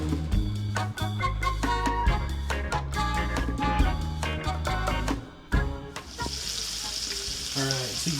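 Largemouth bass fillets fry in melted butter in a pan, giving a steady close sizzle with scattered clinks and scrapes, and the hiss swells brighter near the end.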